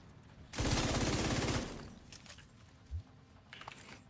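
A Mark 46 machine gun fires a single sustained burst in a video game, loud and close with a fast, even rattle for about a second, then fades into quieter game sounds with a soft thump near the end.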